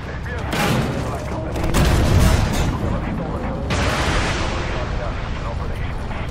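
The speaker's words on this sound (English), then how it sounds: "The usual missile fire coming in from the right." Missile fire and explosions in the Armored Warfare tank game, heavy booming blasts and rumbling impacts that swell and roll on in a dense, loud barrage.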